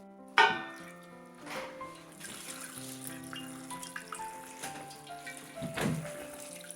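Pickling brine for garlic scapes is poured into a jar, soft trickling and gurgling bursts with a few clinks, fairly quiet and close, no talk.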